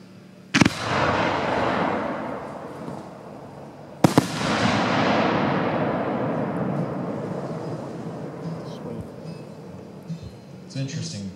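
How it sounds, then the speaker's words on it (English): A Freedom 5-inch full-case firework shell bursts twice with sharp booms, each followed by a long crackling, hissing willow-effect tail that fades slowly, heard from a moderate distance with faint crowd noise. "This is a Freedom 5-inch, again, full case effect. This is going to be variegated to willow to variegated."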